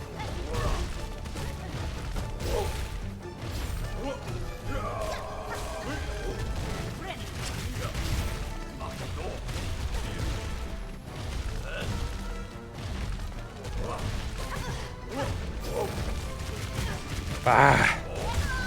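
Explosions in the video game Silksong burst repeatedly, a dense run of crashes and impacts with a sharper blast near the end over busy game sound.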